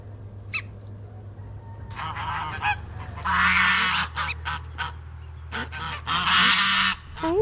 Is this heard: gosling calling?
yes